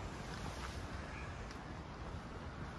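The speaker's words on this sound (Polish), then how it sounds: "Słyszę ten szum fal." Sea waves wash steadily near Gibraltar at night, a soft, continuous rushing surf with some wind noise and no talking.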